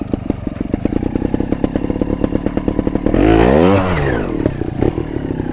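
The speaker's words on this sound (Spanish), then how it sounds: "Fijaros cómo suena, el golpe de gas que tiene." A Vertigo trial motorcycle idles with a rapid, chugging beat, then one sharp throttle blip makes the engine rev up and settle back to idle.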